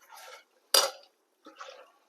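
Beef is mixed by hand in a bowl with spices, coconut oil, curry leaves and salt for a Thrissur-style beef and Chinese potato dish, heard as three quiet, separate scraping and clinking bursts with no talk.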